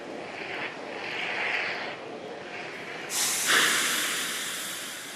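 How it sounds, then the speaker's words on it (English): SpaceX Falcon 9 engines start up ahead of a launch carrying 45 satellites, heard from a distance as a faint, breathy roar that swells and then surges into a sharp, broad hiss midway. "And there's that call out that Falcon 9 rocket is in startup"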